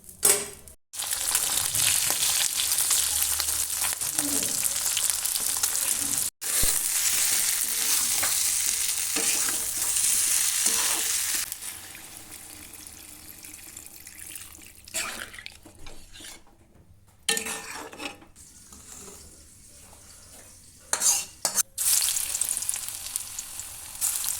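Fish curry with potato and eggplant and lentil fritters cooking in a Bengali home kitchen: a steady loud sizzle of frying with scraping stirring, broken by brief pauses and quieter stretches later on.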